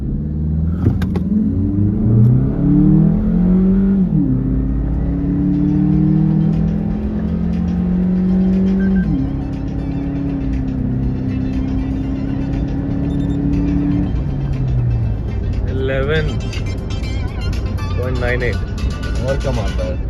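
A turbocharged Suzuki Jimny fitted with an Anrot kit accelerates hard, its engine tone climbing in repeated rising sweeps with gear changes, loud and close from inside the car, with people talking over it.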